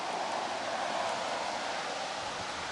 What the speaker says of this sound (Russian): Потому что ветер сильный.